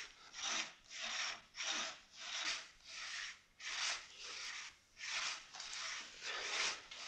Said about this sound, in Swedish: är det mitt träd de tänker såga ner?